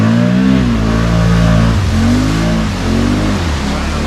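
A Can-Am Outlander 650 ATV engine revs hard through a thick mud swamp, loud and close, its pitch rising and falling in repeated surges.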